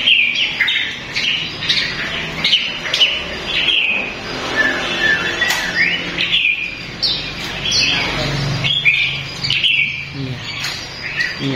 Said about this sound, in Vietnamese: Nghe tiếng chim